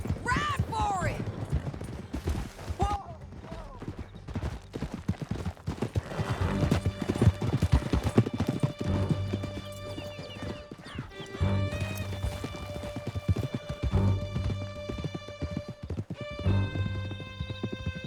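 Horses galloping during a Red Dead Redemption 2 canyon escape, loud rapid hoofbeats with whinnies and bursts of gunfire, under shouted voices and a music score.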